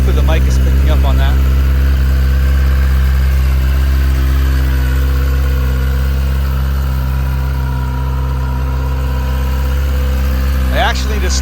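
A stock 2023 Kawasaki ZX-10RR sportbike idles after a cold start on a weak battery, with a steady, close, loud low rumble that holds evenly throughout and small sharp knocks near the start and end.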